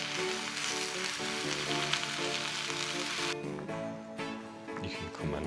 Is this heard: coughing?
no